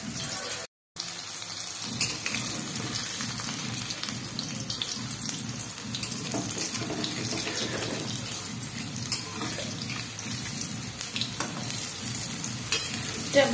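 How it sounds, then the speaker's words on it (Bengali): Pieces of palm kernel dipped in gram-flour batter fry in hot oil, a steady dense sizzle and crackle running the whole time with a brief dropout near the start, close and fairly loud, no voices. "এইভাবেই ফোপড়াগুলোকে সবগুলো বেসনে ডুবিয়ে ভেজে নিতে হবে।"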